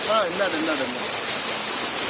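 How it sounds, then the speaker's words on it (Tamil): A waterfall near Marathahalli roars as a loud, continuous broadband rush, steady throughout, while a voice talks over it at the start. "நல்ல அருவி பாருங்க, எப்படி இருக்குன்னு பாருங்க."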